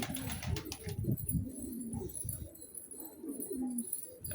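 A pet blue crow calls indoors with short, low, cooing and throaty sounds, heard fairly close and at modest volume without any talk.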